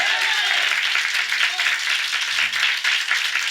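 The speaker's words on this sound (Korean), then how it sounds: "먼저 우리 하나님께 박수로 영광 돌리겠습니다." Congregation clapping together during a Sunday morning church service, a dense, even burst of many hands filling the sanctuary, with a voice briefly heard beneath it.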